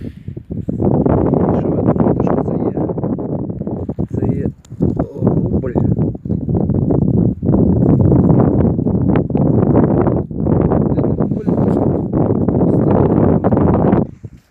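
Heavy wind buffets the microphone in a continuous low rumble with brief gaps, while a voice speaks underneath.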